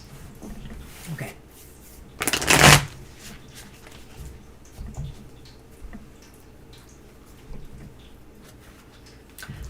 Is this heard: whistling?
no